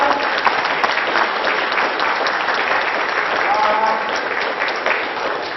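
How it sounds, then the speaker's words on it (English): Congregation in a United Methodist church gives a steady round of applause, even and moderately loud throughout, with faint voices mixed in. "Let's give them a round of applause, shall we?"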